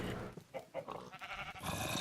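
Bleating farm animals in a video game, several short overlapping calls over a steady busy background, fairly quiet.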